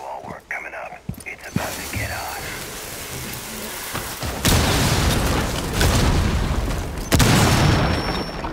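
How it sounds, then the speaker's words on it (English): A thermite breaching charge burns through drywall in Rainbow Six Siege: a dull boom gives way to a loud, steady hissing, crackling roar like heavy rain, swelling with a second burst, while a player talks early on. "we want to thermite a hole in the drywall"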